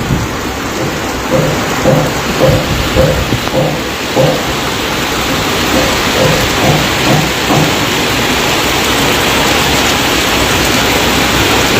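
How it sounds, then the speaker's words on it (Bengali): Torrential rain pours down in Arambagh, a dense, loud, steady roar, with a rumble of thunder rolling through the first several seconds. "আরও জোরে নেমেছে এই মুহূর্তে বৃষ্টি মুসলধারায় বলা চলে বৃষ্টি নেমেছে"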